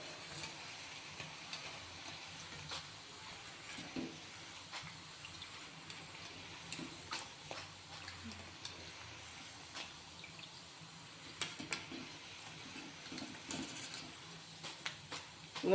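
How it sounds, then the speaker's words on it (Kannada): Onion pakoda fritters frying in hot oil give a soft, steady sizzle with faint crackles and light scraping, fairly quiet and close, with no talking. "ನೋಡ್ರಿ, ಸೌಂಡ್ ಬರ್ತಾ ಇದೆ. ಚೆನ್ನಾಗಿ ಫ್ರೈ ಆಗಿದೆ."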